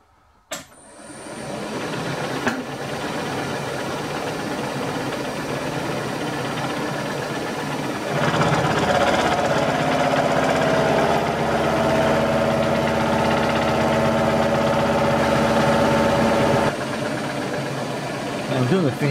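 A powered lathe slotter takes a finishing cut on its backstroke, a steady continuous machine drone with a rhythmic mechanical running tone that grows louder and fuller midway, then settles back near the end.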